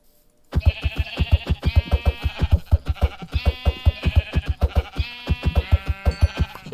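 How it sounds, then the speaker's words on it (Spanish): Repeated sheep bleats from the video game Minecraft, a rapid series of loud, close, quavering baa calls in quick succession with short gaps, no talking. "otra oveja por aquí"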